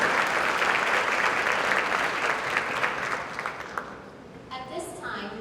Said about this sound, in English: Let's give them a round of applause for supporting our Vineland High School students.